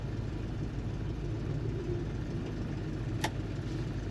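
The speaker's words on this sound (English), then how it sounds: "Today we're driving a very nice 1969 Chevrolet C10 in a beautiful bright blue." A 1969 Chevrolet C10 pickup with Sniper EFI drives along with a steady low engine rumble and road noise throughout, plus one brief click partway through.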